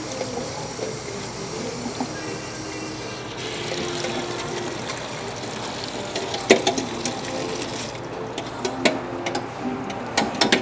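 Running tap water pours steadily over a leek being rinsed, a continuous hiss and splash close by with small knocks and clinks toward the end, no talking.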